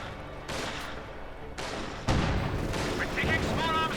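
Gewehr-43 rifle fire bursts out in Company of Heroes 2 combat, with several sharp loud reports and overlapping volleys in quick succession and a faint voice near the end.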